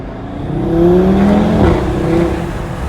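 An Audi TT RS engine revs steadily, its pitch climbing, then dips briefly as a gear shifts and climbs again, loud and close.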